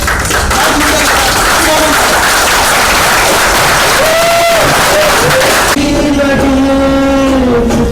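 Loud applause from a full-house theatre audience after a staging of Girish Karnad's play Naag Mandal, a dense roar of clapping throughout, with a voice beginning to speak over it near the end.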